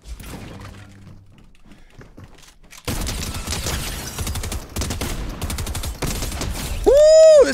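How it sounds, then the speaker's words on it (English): Combat SMG firing in Fortnite Chapter 3 Season 2: after a quiet few seconds, loud rapid automatic bursts crackle in several separated volleys, ending with a bright rising-and-falling tonal whoosh. "Let's go ahead and talk about the new combat SMG."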